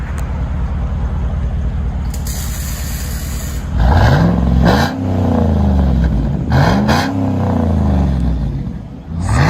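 A 6.2L V8 engine in a GMC Yukon Denali idles with a deep burble, then revs up sharply several times through an aftermarket exhaust, loud and close.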